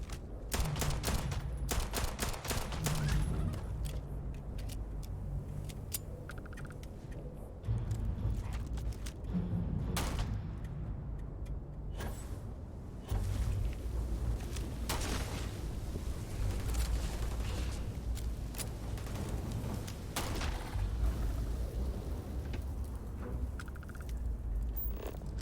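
Gunfire in the game Starfield crackles in dense bursts of rapid shots, quieter stretches between volleys, sounding fairly distant and steady through the clip.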